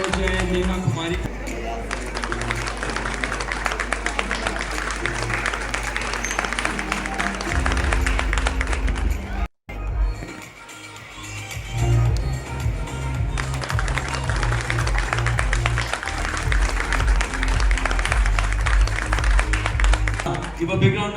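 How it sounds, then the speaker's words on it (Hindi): An audience at an art and culture award ceremony in Delhi applauds an award winner, steady clapping over a loud musical backing with a brief dropout midway, then clapping and music resume. "जोर से तालियां हो जाए नेहा कुमारी"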